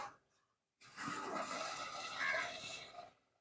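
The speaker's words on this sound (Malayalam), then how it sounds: "ഇനി നമ്മൾ ഇതിലേക്ക് കുറച്ച് വെള്ളം ഒഴിച്ചു കൊടുക്കുന്നുണ്ട്." A short, close burst of water poured into a cooking pan lasts about two seconds, then stops abruptly.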